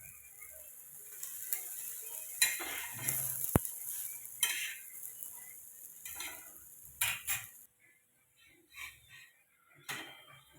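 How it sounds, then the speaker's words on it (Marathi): A fasting thalipeeth flatbread fries in oil on a pan, a faint sizzle broken by scraping and clinking of a spatula against the pan, quiet and intermittent with short silent gaps. "दुसऱ्या साईडनं पण छान थालीपीठ भाजत आले"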